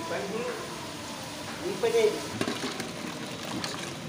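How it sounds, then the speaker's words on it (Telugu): Tomatoes being stirred into a cauliflower and brinjal curry with tamarind pulp in a pan, a steady soft sizzle with scraping spoon strokes, a louder stir near the middle, under faint background noise. "అలాగే టమాటా కూడా వేసి కలుపుకోవాలి."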